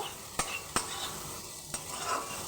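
Minced garlic is stirred into a pan with fried onion and chilli, a soft sizzle running underneath while a utensil scrapes and knocks sharply against the pan three times.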